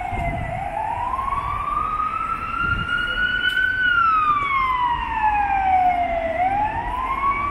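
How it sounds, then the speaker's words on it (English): An emergency vehicle siren wails along a Budapest boulevard, its tone sweeping slowly up and down in long glides, loud and fairly close over steady street traffic noise. "the siren goes"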